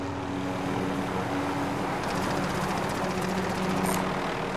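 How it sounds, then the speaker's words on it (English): A video-game helicopter flies overhead with a steady, loud rotor drone that holds throughout, layered with faint rhythmic chopping and a distant crackle of game sounds. "There's the helicopter"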